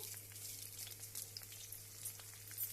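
Garlic and dried red chillies fry in hot oil with a soft, steady sizzle and light crackle, faint and close, over a low hum.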